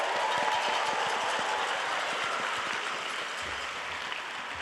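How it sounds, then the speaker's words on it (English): A large crowd at a graduation ceremony applauds the graduating class, a dense, even roar of clapping that sounds faint and distant. "let's give a huge round of applause to the class of"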